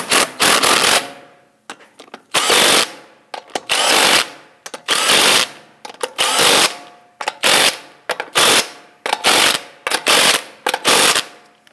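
An impact tool snugs down the wheel lug nuts on a 2001-2009 Volvo S60, loud close rattling bursts of about a second each, repeated roughly ten times with short pauses between them.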